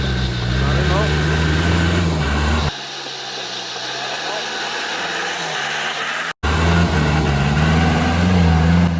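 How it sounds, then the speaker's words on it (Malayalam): A 4x4 off-road vehicle with cut tyres grinds up a slope in a Kerala rainforest, its engine droning loud and steady close by, dipping briefly midway before surging again. "അതുകൊണ്ട് തന്നെ വണ്ടി ഈസി ആയിട്ട് കയറി പോകുന്നുണ്ട് കേട്ടോ"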